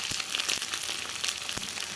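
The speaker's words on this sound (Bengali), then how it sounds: "ভেজে নিছি আদা বাটা" Ginger paste and other spice pastes frying in a pan, a steady close sizzle with a few soft stirring knocks, alone without voices.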